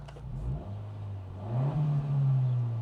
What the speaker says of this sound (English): Dude, this is such a Honda sound.